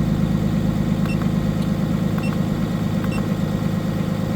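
A heavy truck's diesel engine runs steadily during a forced regen, a loud, constant low rumble with faint ticking.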